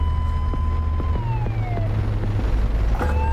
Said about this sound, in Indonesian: Ah bunyi pula polisinya.